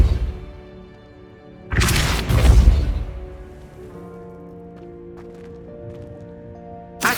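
A Depulso force spell cast in Hogwarts Legacy lands as a loud, broadband whoosh and rumbling impact lasting about a second, over a steady low ambient hum of game music, with a faint sharp tick at the very end.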